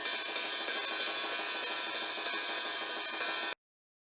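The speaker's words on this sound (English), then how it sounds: "Same with ride, it sounds like this." Solo ride cymbal track, heavily equalized, from an atmospheric black metal mix: a steady, even pattern of bright shimmering pings washing together, played alone before stopping dead.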